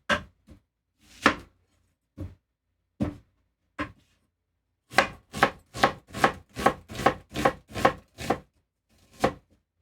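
A knife chops broccoli on a cutting board: a few scattered cuts at first, then a quick run of about ten crisp, evenly spaced chops and one final stroke, close and clear with no talk.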